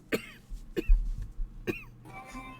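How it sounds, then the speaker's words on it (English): A man coughs three times in sharp, separate bursts, close by, with low rumbling noise between coughs, aboard a moving train car. "there's a man sweating and leaning against the car wall, coughing"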